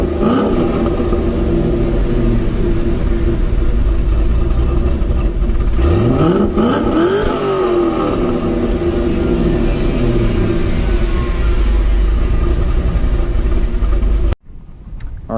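A loud cammed 2006 Mustang GT V8 with long-tube headers idles with a lopey, choppy rumble, then revs up and falls back once midway before cutting off abruptly.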